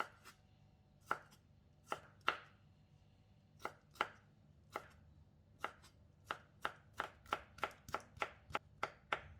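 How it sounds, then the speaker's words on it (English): A knife chops jackfruit into strips and cubes on a board, isolated strikes at first then a quicker steady run of cuts, close and crisp with no talking. "cut the jackfruit into thin strips and into smaller cubes"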